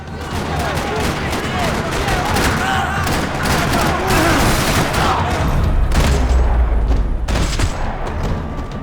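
Rapid, loud bursts of gunfire echo through a parking lot in the game Max Payne 3, dense overlapping shots and booms, with a voice faintly under the racket.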